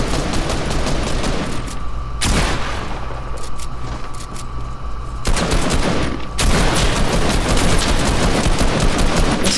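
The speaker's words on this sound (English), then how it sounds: "I love the new sound of the AR." Rapid bursts of assault rifle fire in the Fortnite video game crackle loudly and close, with dense automatic volleys broken by short pauses and no speech.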